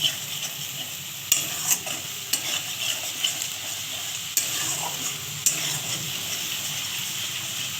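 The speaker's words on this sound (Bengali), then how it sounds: "ধনেপাতা। এটাকে আমি ভালোভাবে ভাজবো।" Coriander leaves fry in a hot pan for a spinach bharta, a steady sizzle running throughout while a utensil stirs and clinks against the pan at irregular intervals.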